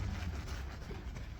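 A hand or cloth rubs across rough, gritty car paint before clay bar cleaning, giving a dense, steady scraping hiss that is close and continuous for its short length.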